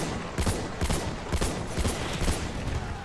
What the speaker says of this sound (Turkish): Biri pompalı mı sıkıyor, bir şey sıkıyor.